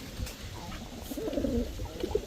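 Male Andalusian Damascene pigeon cooing softly nearby, a few low throaty coos rising over a murmur of background noise.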